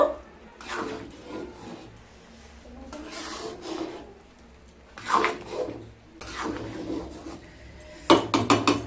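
Vegetable khichuri made with winter vegetables and plenty of ghee is stirred in a pot, with close rubbing and scraping strokes that come in uneven bursts and short pauses.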